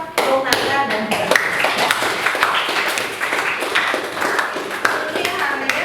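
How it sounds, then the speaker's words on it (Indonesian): Students and a teacher clap in a classroom, a small group producing scattered, uneven hand claps mixed with voices talking throughout. "tepuk tangan buat Bung Nanda"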